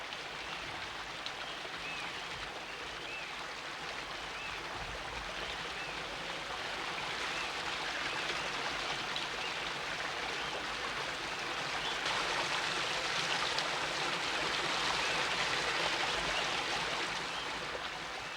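A tributary of the Baker River in Chile flows through forest near Cochrane, south of Lake General Carrera, giving a steady, close, broadband rush of water that swells slightly louder midway and continues unbroken.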